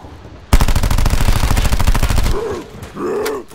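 Automatic gunfire in Call of Duty Black Ops 4 zombies mode, a loud rapid burst lasting about two seconds, followed by groaning zombie sounds.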